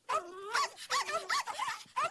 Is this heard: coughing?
no